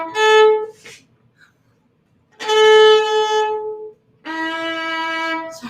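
Two sustained bowed notes on a viola's low string, steady and resonant, separated by a short pause.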